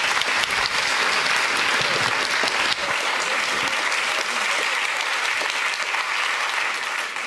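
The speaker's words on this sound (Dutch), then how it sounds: "Voor Arjen, geef hem een heel hartelijk applaus. Arjen Visser." An audience applauds warmly in a dense, steady wash of clapping that holds at one level throughout.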